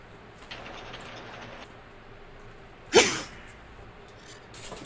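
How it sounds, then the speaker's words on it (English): A single sneeze from someone off to the side during a casual gaming chat, a short sharp burst standing out over a low steady background hum. "Who sneezed? Bless you."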